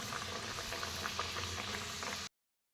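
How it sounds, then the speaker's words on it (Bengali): Luchi bread deep frying in oil, a dense bubbling crackle held at a moderate level before it cuts off abruptly. "এরকমভাবে সবকটা লুচি ভালো করে ভেজে ভেজে তুলে নেব"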